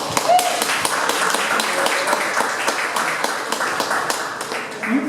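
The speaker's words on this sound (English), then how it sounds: "Please give him a big round of applause." Audience applause and clapping at a campus library community event, a full, steady burst of many hands clapping for several seconds, a faint voice briefly audible near the end.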